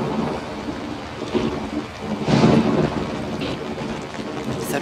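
A thunderstorm with steady rain falling on surfaces, while a rolling rumble of thunder swells in the middle and slowly fades; no voices, a constant wash of rainfall throughout.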